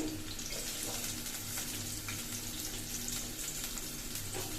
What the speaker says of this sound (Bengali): পেঁয়াজটা আর একটু ভাজা হবে